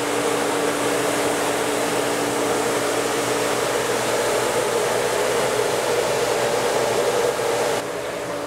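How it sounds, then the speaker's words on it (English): A salt brine maker runs with a steady, dense mechanical roar and rushing noise that holds constant and close throughout, then drops slightly in level near the end, with no voices. "we're going to start our brine maker up."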